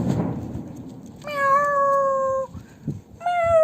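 A person imitates a cat, giving two drawn-out meows, the first long and the second shorter after a brief pause, voiced up close in a quiet room.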